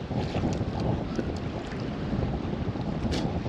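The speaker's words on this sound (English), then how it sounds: "the wind picked up" Strong wind gusting across an open quarry at night, a steady loud roar buffeting the microphone throughout with no voices.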